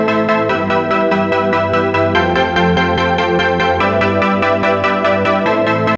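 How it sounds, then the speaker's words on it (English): Soft, stabby synth chords played in a reworked rhythmic pattern, layered and full, repeating steadily and loud throughout with no voices. "I have another quick kind of soft stabby sound here"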